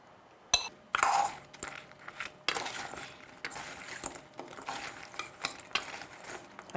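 Crispy cornflour-coated chicken wings are stirred in a pan, with a run of sharp scraping and clattering strokes over a crackling sizzle. The sounds are close and fairly loud, with no talking.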